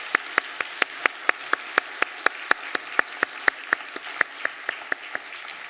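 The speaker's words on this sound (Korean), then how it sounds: "우리 다시 한번 박수로 격려하겠습니다." A church congregation at a Wednesday worship service claps for the choir in a steady, sparse rhythm of distinct, evenly spaced claps, fairly close and clear, with no talking over them.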